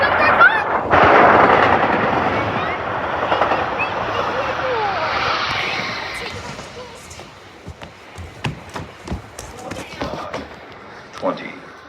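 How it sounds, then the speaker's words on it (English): Doylestown rail cars pulling into Elkins station, a broad rumbling roar that builds loudly then fades over several seconds, followed by scattered clanks and knocks, with people talking nearby. "Here we go, train coming in, so let's rail cars. The Doylestown rail cars."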